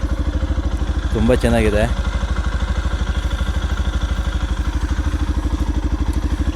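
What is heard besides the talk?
Yamaha FZ Hybrid motorcycle exhaust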